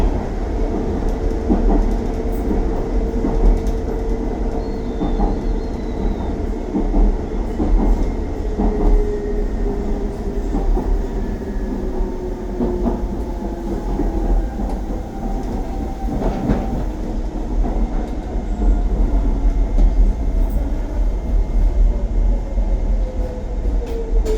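A London DLR light-rail train travels toward Beckton from Tower Gateway, heard from on board. A continuous loud rumble and hum of wheels and motors runs the whole time, with a rising and falling motor whine and occasional wheel squeal.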